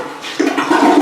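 An American Standard single-flush toilet flushes in a master bathroom, a close, steady rush of water that swells loudly midway and keeps surging to the end.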